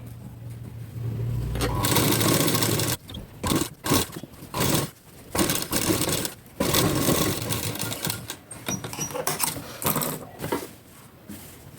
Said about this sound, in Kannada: ಸೂಜಿ ಚುಚ್ಚಿ ಇದನ್ನು ಸ್ಟ್ರೈಟ್ ಮಾಡಿಕೊಂಡು ಸ್ಟಿಚ್ ಹಾಕ್ಕೊಳ್ತಿದ್ದೇನೆ